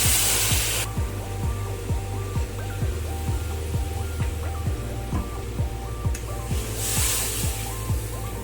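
Water from small bowls goes into a pot of cooked-down spice masala for a Bengali prawn curry with potatoes, giving a steady hissing, spraying wash over a low rhythmic background thump, with a brief louder burst at the start and again near the end.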